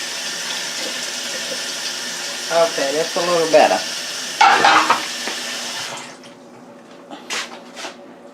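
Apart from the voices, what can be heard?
pouring a cup of water into a pressure cooker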